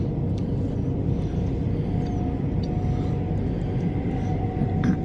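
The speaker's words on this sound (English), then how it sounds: "There's a train coming down here now that's going to Shepherd's Bush." A passenger train bound for Shepherd's Bush runs through Ealing Broadway station, a steady low rumble of wheels and motors filling the whole span, with a faint high tone appearing midway.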